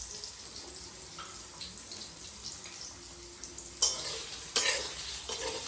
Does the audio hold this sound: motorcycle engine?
no